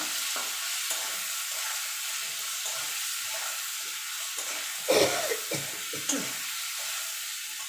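Turmeric powder and salt stirred into frying pumpkin greens with potato and bori, a soft continuous sizzle and hiss with a few louder spatula scrapes near the end, close and without talk.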